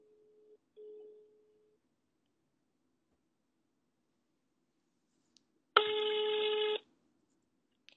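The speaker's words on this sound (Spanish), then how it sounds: "Estamos llamando a Mauro al celular" A telephone call to a mobile phone during a broadcast: a faint short tone, a pause of quiet, then a single loud electronic dialing tone lasting about a second.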